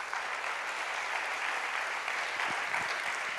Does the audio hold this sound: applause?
yes